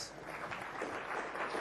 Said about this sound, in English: That's a golf clap right there.